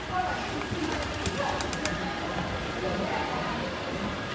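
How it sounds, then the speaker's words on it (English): Soft pigeon coos murmur in the background beneath a person speaking on a balcony in the rain, with steady ambient noise outdoors. "that we're sharing with pigeons"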